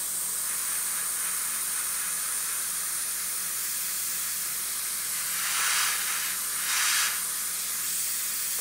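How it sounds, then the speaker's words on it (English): An airbrush sprays paint in two short hissing bursts of air over a steady background hiss, speeding the drying of a thin coat on a King Tiger tank model. "Get the airbrush and speed it up."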